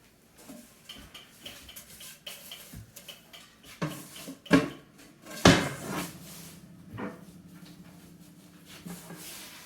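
Back panel being fitted to a grandfather clock case, with scattered wooden knocks, clunks and sharp clacks of the panel and screws being handled, irregular and fairly close in a quiet room.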